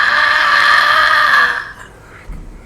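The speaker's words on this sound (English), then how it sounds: "The Wilhelm scream." The Wilhelm scream sound effect: one loud, sustained scream lasting about a second and a half, then breaking off abruptly into quiet, with no talking.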